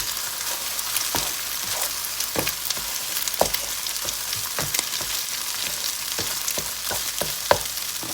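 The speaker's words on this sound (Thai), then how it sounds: "เราก็จะยีไข่นะคะ ทุกคนใช่ค่ะ สุกประมาณหนึ่งนะคะ" An egg fried and stirred in a pan for pork pad see ew sizzles steadily while a utensil scrapes and taps the pan in irregular strokes, close and fairly loud, with no voices.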